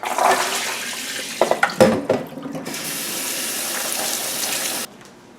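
Running water streams from a tap into a sink while overnight-soaked almonds are drained and rinsed, with a few splashy bursts and a steady flow before it stops.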